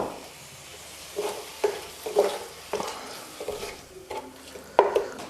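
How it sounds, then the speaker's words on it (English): Water poured into a hot pan of spices while cooking palak paneer with tofu, giving soft sizzling behind a series of utensil scrapes and clinks against the pan, close and moderately quiet. "The pan is still hot, right? And I don't want my spices to burn. So I'm just going to add some water to it."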